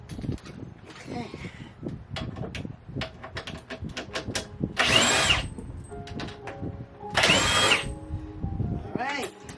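Power drill removing the four bolts while a Vevor 7x12 inch bench top mini metal lathe is unboxed, two loud whirring bursts of a few seconds each amid clicks, handling knocks and talk.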